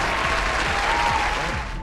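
Comedy show audience applauding, a dense, loud wash of clapping that holds steady for about two seconds before tapering slightly.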